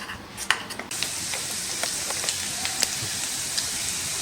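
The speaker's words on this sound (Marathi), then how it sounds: "ह्याचं पातळ बॅटर करून हे तेलामध्ये आपण तळून घेऊया।" Thin corn fritter batter dropped into hot oil gives a steady, close crackling sizzle with small pops throughout and a slight clatter at the start, with no voices.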